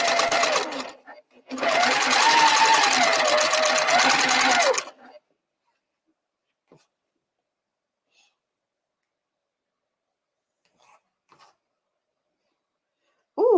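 A sewing machine stitching fabric in two bursts, a short run then a longer steady whirring stretch of rapid needle clatter, close and loud, followed by near silence with a few faint clicks and a brief voice at the end.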